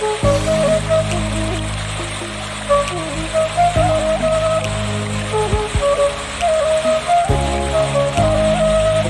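The Janji waterfall in Tipang village, Bakara, North Sumatra, drops 35 to 45 meters over uneven rocks, giving a steady, dense roar of falling water heard alone and close throughout.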